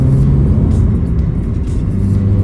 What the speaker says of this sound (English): We're in second. Let's go through the gearbox.